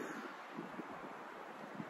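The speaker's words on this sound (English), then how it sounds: "it's become very windy" Steady, faint rushing wind at a backcountry campsite on the Eastern Pines Trail in Algonquin Park, with soft gusty buffeting, broadband and continuous, with no other sounds standing out.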